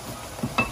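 Water poured into frying minced meat (keema) in a pot sets off a close, hissing sizzle with brief stirring bumps, short and without talk.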